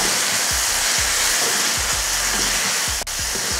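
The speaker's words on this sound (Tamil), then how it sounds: "இப்போ இதையை வதக்கிடுவோம்" Capsicum, onion and tomato sauté in a hot pan, a continuous loud sizzle with repeated scraping stirs of a spatula giving a steady rhythm throughout.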